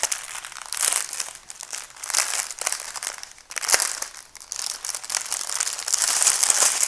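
A plastic bag from a Gudfel diamond painting kit crinkles and crackles loudly and continuously as it is pulled open, with bursts of rustling throughout and no talking.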